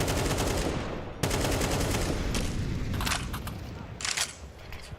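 Gunshots during a professional Counter-Strike match at a BLAST tournament semifinal, heard as dense, continuous gunfire and blasts packed together at loud level, with a few sharper cracks standing out near the end.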